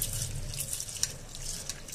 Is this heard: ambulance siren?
no